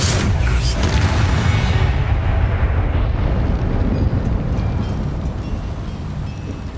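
Bombarda spell explosion in the video game Hogwarts Legacy, a loud sustained rumbling blast with heavy low roar that slowly decays across the whole stretch.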